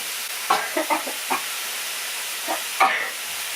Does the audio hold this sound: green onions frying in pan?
yes